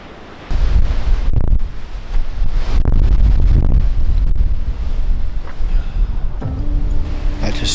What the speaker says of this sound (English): It's still real windy everywhere but behind this rock behind me here